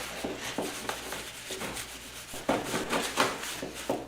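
Mold release agent rubbed by hand over foam for a motorcycle cafe racer part, heard as close, repeated rubbing and scraping strokes in an uneven rhythm with no talking.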